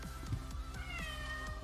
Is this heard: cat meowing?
yes